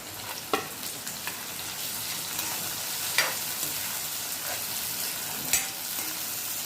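Tomato tossed into onions frying in a pan gives a steady, close sizzle, with a few louder stirring clinks and pops and no talking.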